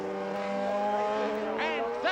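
Racing motorcycles, a Suzuki among them, heeled hard over through the bends at Oulton Park; several engines whine in rising and falling harmonic tones, with a sharp passing sweep near the end.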